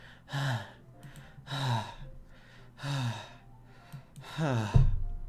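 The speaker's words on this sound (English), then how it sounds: "It sounds like breathing. A sharp inhale, like someone is sucking in air through their teeth." Doki Doki Literature Club game audio: a series of sharp, hissing inhales through teeth with heavy breathing, four or five close, separate breaths spaced about a second apart, the last one ending in a shaky gasp.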